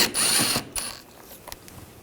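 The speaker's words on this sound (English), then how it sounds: "Screw right here is a T25. Take that out." A ratchet wrench clicks briefly while a T25 Torx screw is backed out on a 2009-2017 Volkswagen Tiguan during rear shock absorber replacement, a close burst of mechanical ratcheting followed by a few fainter clicks.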